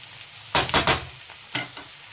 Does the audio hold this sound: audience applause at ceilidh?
no